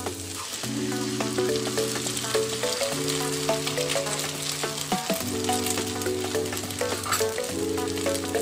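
Four beaten eggs go into a hot pan with softened onions for egg podimas, giving a close, continuous sizzle with occasional stirring scrapes over a steady musical backing.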